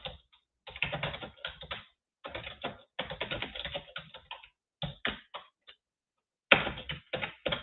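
Rapid bursts of typing on a computer keyboard, clicking keys in uneven clusters separated by short pauses, close and clear with no voices.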